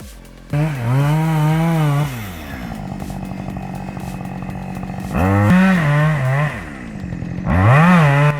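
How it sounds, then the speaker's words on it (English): A Husqvarna 560 XP chainsaw cuts through a tree trunk during logging, the engine screaming loud and close in three bursts of revving that drop to a rough idle between cuts. "I am honestly impressed by how fast that Husqvarna 560 XP chainsaw chews through the wood"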